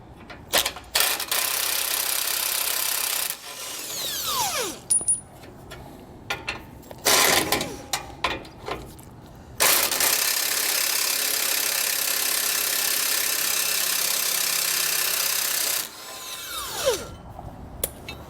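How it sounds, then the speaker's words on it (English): An impact wrench removing tow hook bolts on a 2022 Ford F-150 fires in loud, close rattling bursts, several short and one running about six seconds, with quieter pauses between. "we're gonna come back with our impact and remove them the rest of the way"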